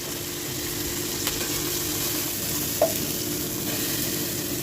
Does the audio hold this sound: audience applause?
no